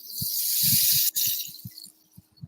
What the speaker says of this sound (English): This is called palo de lluvia, rain stick.